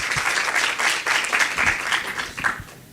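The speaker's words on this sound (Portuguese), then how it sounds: "Palmas." Audience at a cultural heritage panel breaks into sustained applause, dense rhythmic clapping filling the room, loud and steady with a few sharper claps standing out.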